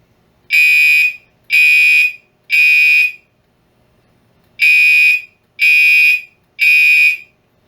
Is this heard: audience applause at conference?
no